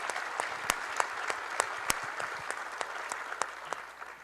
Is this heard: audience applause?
yes